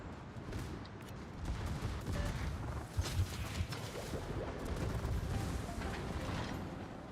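Naval guns firing in the World of Warships game: a dense, continuous barrage of booming cannon shots and explosions, with heavier salvos cracking out in the middle, loud throughout with no talk.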